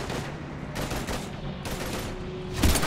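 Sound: gunfire in the Mass Effect 3 video game

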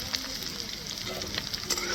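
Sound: potatoes and onion frying in pan

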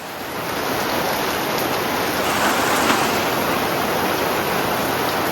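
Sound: heavy rain

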